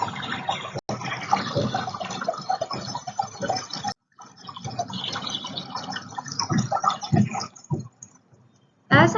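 Cool water trickles through cupped, slightly parted fingers into a water-filled trench, a close, steady splashing patter that runs continuously with a couple of brief breaks.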